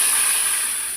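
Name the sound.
water poured into hot pan with sour curry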